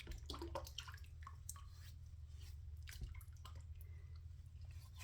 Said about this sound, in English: I'll go ahead and wet my face and get this lather going.